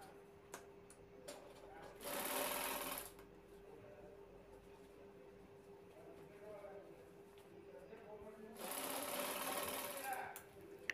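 A sewing machine stitches the corners of a handbag in two short, fast bursts of rattling needle action. Someone talks quietly between the bursts in a quiet indoor room.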